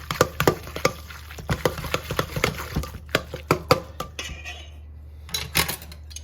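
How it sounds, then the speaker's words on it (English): A spoon repeatedly scrapes and clinks against a bowl while deviled egg filling is mixed, giving a fast, irregular run of close, sharp taps that thins out and pauses near the end. "you kind of maybe start the mixing with a spoon"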